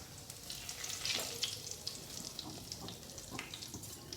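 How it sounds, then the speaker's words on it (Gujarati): Potatoes sizzling in a hot tempering of oil for masala dosa filling in a home kitchen, a steady close hiss with light scraping and a few clinks of a spoon, no talking. "મમ્મી મસાલા ઢોસા બનાવવાના છે એટલે બટેકાનું વઘાર કરે છે"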